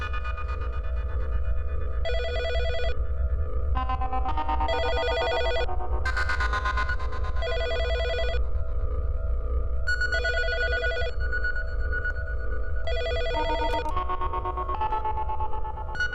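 A telephone rings in repeated electronic bursts with short pauses between them, loud and close, over a low background hum.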